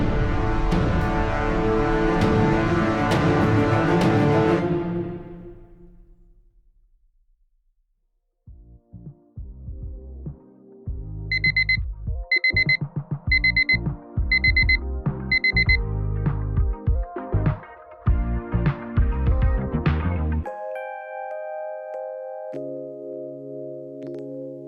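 An alarm clock ringing at 5 a.m., a loud repeated electronic beeping pattern after a stretch of other sound and near silence, ending in sustained tones, close and with no talk.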